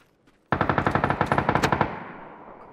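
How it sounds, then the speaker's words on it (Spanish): A loud automatic-weapon burst rips out in PUBG on the Erangel map: about twenty rapid, evenly spaced shots over roughly a second and a half, then a fading echo, with no talk over it. "¿Qué tiros aquí cerca, eh?"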